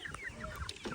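A flock of chickens in a village coop clucking, several short overlapping clucks and calls over about a second, faint and fairly distant.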